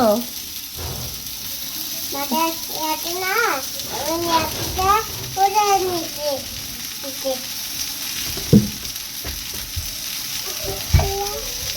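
Food fries in a well-filled pan and is stirred, a steady sizzling hiss with occasional scrapes and knocks, while a child and an adult talk over it.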